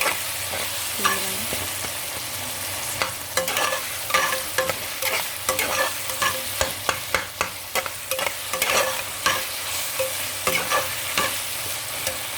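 Tomatoes go into a pan of well-fried onions and sizzle steadily while a spoon scrapes and stirs in repeated sharp clacks throughout.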